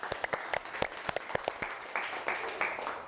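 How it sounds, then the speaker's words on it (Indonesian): A small group in a classroom-style session claps briefly, giving a short burst of close, uneven applause with a few voices mixed in. "Oke, kasih aplaus."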